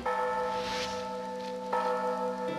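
A church bell rings at a church in Mexico, its sustained tones humming steadily before a fresh strike lands partway through. There is no talking.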